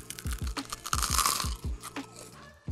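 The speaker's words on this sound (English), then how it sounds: "So we gotta give it a nice crunch test." Homemade herb croutons are bitten and chewed up close, with a rapid run of loud, dry crunches in a quick uneven rhythm.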